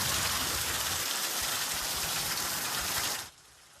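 Heavy storm rain pours down steadily on surfaces in San Jose, a dense, loud, continuous hiss close by that cuts off abruptly near the end, leaving quiet.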